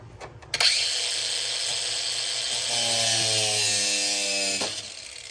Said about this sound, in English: I use my little cutoff wheel.